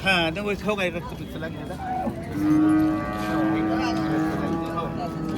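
Voices at the start give way to a cow's long, low moo at a cattle market, followed by a second drawn-out bellow, with background chatter around.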